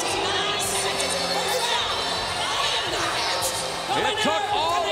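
A fight crowd at a Pride mixed martial arts event roars steadily after Butterbean knocks out Sean O'Haire in 29 seconds. The dense, loud cheering fills the whole stretch without letting up.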